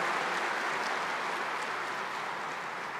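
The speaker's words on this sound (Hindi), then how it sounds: "ताली बजा करके अभिवादन" A crowd at the Brahma Kumaris headquarters in Mount Abu gives steady, continuous applause to welcome Prime Minister Narendra Modi, a dense wash of clapping at moderate volume.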